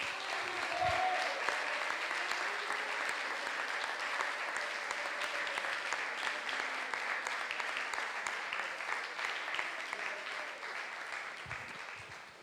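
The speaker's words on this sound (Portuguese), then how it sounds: "Vamos aplaudir o Senhor bem forte." A church congregation applauding loudly and continuously for over ten seconds, a dense even wash of claps that tapers slightly near the end.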